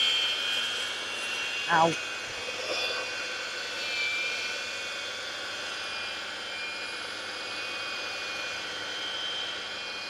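An electric garden edger motor hums steadily as it drives along the edge of a new garden bed, with a person talking briefly over it near the start.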